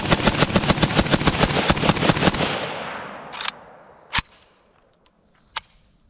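A Cugir WASR-10 Paratrooper carbine, the Romanian AK-47, fires a rapid string of about fifteen loud, close sharp shots, then the echo decays and a few faint distant reports follow.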